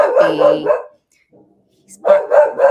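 A dog barks loudly nearby in two bursts, with a short quiet gap and faint whimpering between them.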